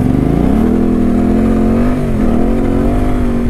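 A Yamaha Tenere 700 adventure motorcycle fitted with an aftermarket exhaust and a reflashed ECU, its engine revving loud and close in a steady, deep, throaty drone with a slight dip midway, no talking.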